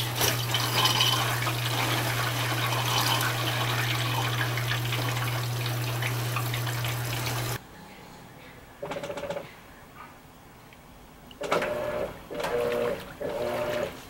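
An Electrolux Premium Care 13 kg front-loading washing machine starts a towel wash, with a steady hum and rushing water fill for several seconds, then quieter tumbling and intermittent motor whirs.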